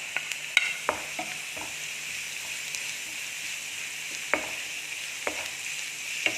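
Garlic sautés in a pan of sweet dates curry, giving a steady mid-level sizzle broken by sharp utensil taps and scrapes at irregular intervals, close and without voices.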